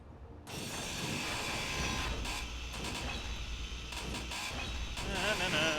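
Grinder tool in the Space Engineers game cutting apart a block, a steady mechanical whirring grind starting abruptly and running continuously at moderate level with no talk over it.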